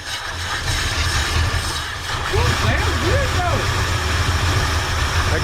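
Engine of a 1968 Ford F100 pickup with a bad carburetor running just after its first start, a steady low rumbling idle close by while a voice talks over it.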